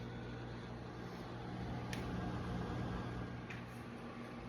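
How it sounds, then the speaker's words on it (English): A microwave oven heats a frozen microwaveable pizza, giving off a steady close hum with a constant low drone and faint fan noise, unbroken and even throughout. "All right, microwave just ended."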